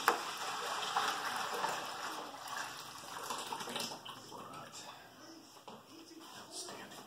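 Tap water runs and splashes softly while a container used for brining brisket is rinsed out, a faint steady hiss with someone talking over it.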